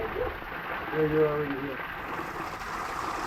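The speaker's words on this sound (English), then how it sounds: "there's the little waterfall thing. You can probably hear it." A small waterfall spills into a rock-lined hot springs pool at a Colorado resort, giving a steady close splashing rush under a background voice.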